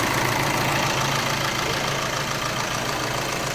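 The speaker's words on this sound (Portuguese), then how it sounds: "Motor funcionando bonitinho." A pickup truck engine idles after a timing belt service, running with a smooth, even, continuous rumble close by and no speech over it.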